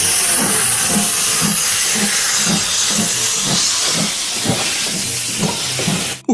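Thomas the Tank Engine toy train running with a loud, continuous steam hiss over a steady rhythmic chugging pulse, close and alone, ending abruptly.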